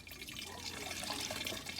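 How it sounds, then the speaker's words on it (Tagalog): A soft, continuous liquid pour of Yakult into a container for a homemade prebiotic mix, faint and close, with light splashing and trickling throughout. "Bubuhos po natin yung 3 container ng Yakult."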